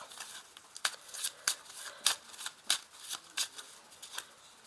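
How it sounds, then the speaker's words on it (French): A deck of 32 playing cards is shuffled, with quiet, rhythmic riffling snaps at roughly half-second intervals and no voices. "je vais utiliser le jeu de 32 cartes pour faire un tirage du lundi au dimanche, jour par jour"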